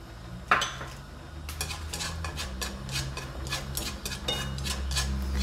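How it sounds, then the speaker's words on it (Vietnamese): White onion and shrimp sautéing in cashew oil in a pan, with a steady low sizzle under a run of light clinks and taps from a utensil stirring against the pan, close up and without speech. "Mình xào củ hành cho tới khi mà nó vàng lên, nó thơm rồi mình bỏ tôm vào đây."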